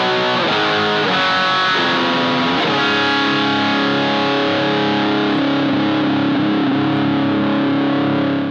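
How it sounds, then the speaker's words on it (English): A heavily distorted electric guitar strums thick power chords, loud and sustained, shifting between a few chords with a gritty, saturated tone. "That's a pretty nice sultry gain sound, actually."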